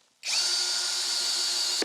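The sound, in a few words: power drill drilling into wall studs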